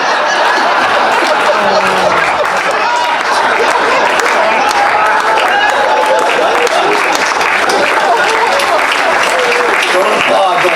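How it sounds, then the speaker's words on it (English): Audience applause at a bluegrass tribute show, loud sustained clapping mixed with scattered chuckles, laughter and crowd chatter throughout. "Don't applaud that."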